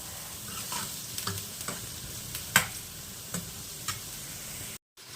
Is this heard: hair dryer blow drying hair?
no